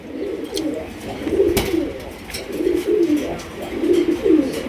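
Raj Golla pigeons, a big high-quality pair, coo in a steady run of low, rolling calls close by, with repeated phrases rising and falling over faint background noise.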